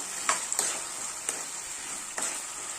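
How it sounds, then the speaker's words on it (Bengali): Fried potatoes stirred back into a pan for a Bengali chhana bhaja dalna, a steady soft sizzle broken by a few sharp scraping strokes of the spatula, close and moderately loud with no talking. "ভাজা আলুগুলো সব দিয়ে একটু কষাবো আবার।"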